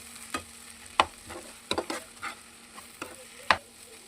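Egg bhurji masala stirred in a pan, a spatula scraping and tapping against the metal in several sharp irregular strokes over a low, steady sizzle, close up with no voices.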